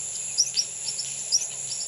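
Small birds chirp in short, high tweets twice over a soft steady hiss in a jungle ambience with rain, the calls faint to moderate and fairly close.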